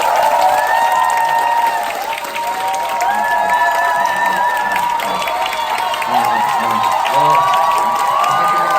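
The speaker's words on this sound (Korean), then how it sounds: "여러분들의 큰 함성 박수가 필요합니다." A large audience at a lecture event cheers and applauds loudly as a guest is called to the stage, a dense continuous roar of clapping and shouting mixed with music.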